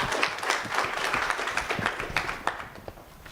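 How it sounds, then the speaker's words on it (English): A moderately distant audience at a conference opening applauds a panelist, a fairly soft, continuous patter of clapping with a few sharper individual claps standing out. "A round of applause for Ms."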